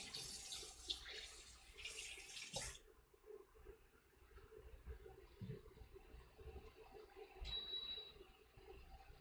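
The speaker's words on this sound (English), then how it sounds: "I'm just gonna rinse this peach off." Tap water runs over a peach being rinsed in a kitchen, a faint splashing stream that is strongest for the first few seconds and then gives way to quieter handling noises.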